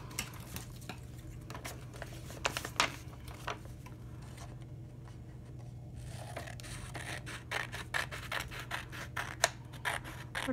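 Scissors snipping around a small paper girl figure for a glue book craft, a series of short crisp clicks and scrapes up close, with a steady low hum underneath.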